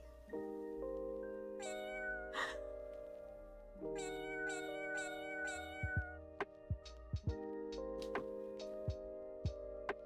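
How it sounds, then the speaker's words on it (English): A little cat icon on a website meows each time it is clicked, producing repeated short electronic meows over steady background music, with sharp clicks scattered toward the end. "if you click the little cat icon, it meows"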